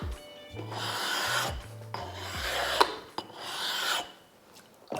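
A sharpening stone rubbed on a flat surface, several rasping back-and-forth strokes with short pauses between them, close and clear.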